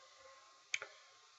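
A single computer keyboard key is pressed, giving a sharp double click close by over a faint steady hum, with quiet stretches on either side.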